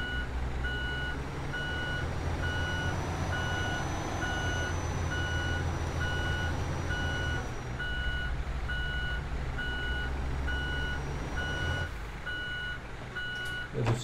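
A truck reversing in Euro Truck Simulator 2 gives off a steady series of evenly spaced, high beeps. The beeps carry on throughout over a constant low engine rumble.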